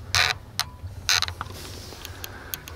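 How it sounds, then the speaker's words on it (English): The roof emergency exit hatch of a 2025 Mercedes-Benz Arocs 2648 hooklift truck is worked open, giving a few creaky mechanical bursts and clicks up close, followed by lighter ticks. "Door on the roof, emergency exit, openable."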